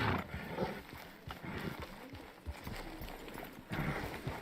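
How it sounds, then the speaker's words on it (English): Horse hooves clip-clop in Red Dead Redemption 2 amid game ambience, a steady run of close, moderately loud footfalls, with no talk over them. "It's your horse."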